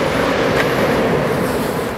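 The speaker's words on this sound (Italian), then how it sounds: "Guardate, il treno sta passando e io sto filmando." Train rolling past in the Lombardy countryside of Italy, a loud, dense, continuous rumble close by, filling the whole moment without voices.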